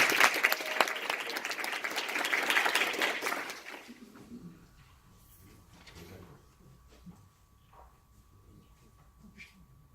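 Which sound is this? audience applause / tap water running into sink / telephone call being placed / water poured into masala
audience applause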